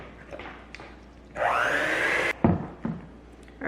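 An electric mixer whirs through Irish whiskey cake batter in a single loud burst of about a second, followed by a few clunks and knocks of a bowl and utensils.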